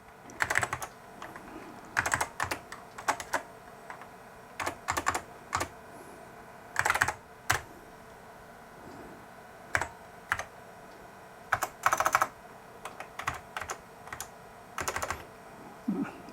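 Typing on a Dell 486P computer keyboard during a system restoration: irregular bursts of clacky keystrokes, close and fairly quiet, separated by short pauses against a low background hum.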